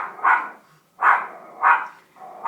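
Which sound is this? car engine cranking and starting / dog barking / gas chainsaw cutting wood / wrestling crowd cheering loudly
dog barking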